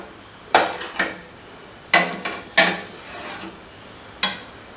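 A spoon clanks and scrapes against a metal pot while Palakkad-style stew with coconut oil is stirred, about five distinct sharp knocks spaced irregularly with soft scraping between, close and clear.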